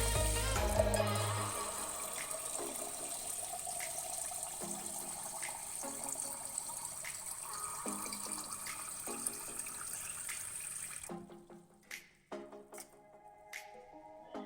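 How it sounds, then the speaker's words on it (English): Water pours steadily into a jar of rice for several seconds, a continuous splashing stream, then stops, leaving a few faint clinks and drips. "Then fill up the jar with water."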